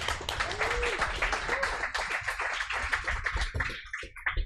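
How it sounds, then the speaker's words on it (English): Audience clapping at a brewery during a live trail-running event gathering, a moderate patter of applause with some crowd murmur, continuing steadily before tapering near the end. "big round of applause for Matt Daniels"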